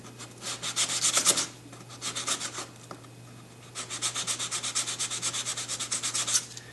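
Sandpaper is rubbed by hand over a car body panel during paint prep, giving close rhythmic scratchy strokes in bursts separated by short pauses, with no talking.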